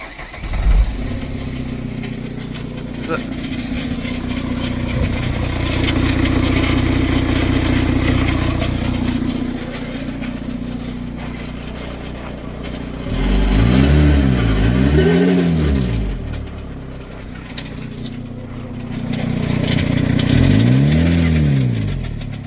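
A car engine with a failed turbo revs up hard twice, each rise and fall loud and close, with a rough idle rumbling between the bursts.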